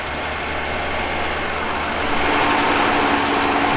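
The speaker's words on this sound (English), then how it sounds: "Unfortunately, we have a truck over here, so it's a little bit louder than normal" A nearby truck engine idles with a steady, loud low rumble and broadband hiss that swells slightly partway through, continuous across the few seconds.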